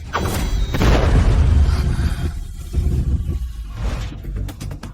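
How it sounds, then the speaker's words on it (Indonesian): A loud explosion in a fantasy action scene booms with a deep rumbling roar that swells and fades, followed by crackling debris and a whooshing tail. "Ini akan meledak."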